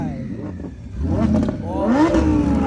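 A roughly 1500-horsepower BMW-powered Exokart accelerates hard at a roll racing event, its engine note rising in pitch as it pulls away close by, with excited voices talking over it.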